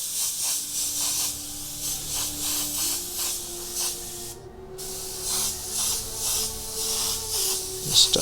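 An airbrush sprays a light dusting of paint onto a white feather, making a steady close hiss that swells and eases in short pulses, with one brief pause partway through.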